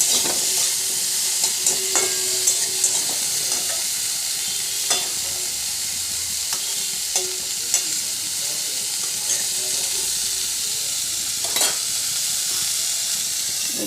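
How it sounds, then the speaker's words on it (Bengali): Cauliflower with scattered neem leaves is stirred in a pan over a steady frying sizzle, with scattered scrapes and clinks of the spoon against the pan across the whole stretch. "এবার নেড়ে চেড়ে নিয়ে ভালো করে ঢাকা বন্ধ করে রেখে দেবো ফুলকপিগুলো ভালোভাবে সিদ্ধ হওয়ার জন্য"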